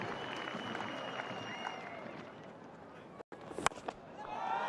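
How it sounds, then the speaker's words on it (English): Afghanistan cricket team applauds a batsman's half century at a match, with scattered distant clapping and crowd noise under commentary talk, plus a few sharp knocks near the end. "the Afghanistan team standing up to applaud"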